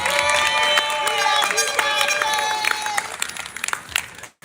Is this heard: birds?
no